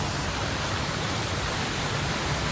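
A waterfall in a village near Pokhara, Nepal pours steadily, giving a broad, even rushing roar that stays constant and fairly close, with no voices over it.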